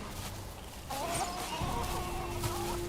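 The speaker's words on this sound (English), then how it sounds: "heard chickens walking around" Chickens in the video game Valheim cluck softly, a few short calls coming in quick succession over quiet ambient game sound, faint and somewhat distant.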